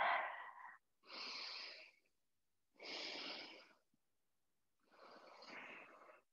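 Slow, audible Ujjayi breaths during a hatha yoga session: four long, airy, hissing breaths close to the mic, each about a second long, separated by short silences.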